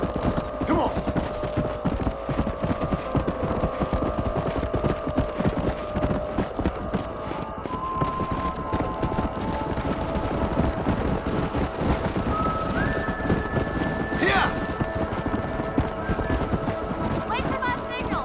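Galloping hooves clatter continuously under wind noise and a low hum in Red Dead Redemption, with a rising tonal sound near the end and voices speaking over it.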